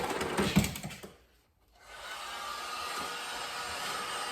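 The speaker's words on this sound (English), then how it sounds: "And we're going to heat them up with our heat gun here." A heat gun is blowing on crank bearings for a Banshee engine, a steady airy roar close by that cuts out briefly and then resumes at an even level.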